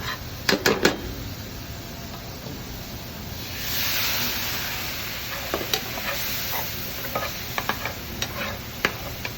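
Vinegar hits a hot pan of currywurst fond, swelling into a sizzling hiss midway, while a utensil scrapes and clicks against the pan in sharp taps before and after.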